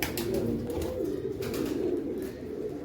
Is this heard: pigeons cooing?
yes